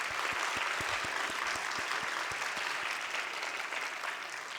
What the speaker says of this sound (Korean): 은혜로 마치게 하신 하나님께 우리 다시 한번 영광의 박수를 올려드리기 바랍니다.